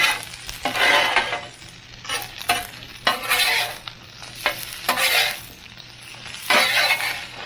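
Chicken fried rice with egg frying in a pan, with a steady sizzle and repeated scraping stirs at an even rhythm, close and fairly loud, with occasional light clinks.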